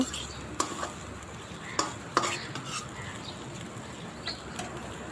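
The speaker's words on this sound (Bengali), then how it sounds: "ভাজা আলুটা এই মশলাতে কষিয়ে নিব" Fried potatoes being stirred into a spice masala in a pan, with a few distinct utensil clinks and scrapes against the pan over a faint, steady sizzle.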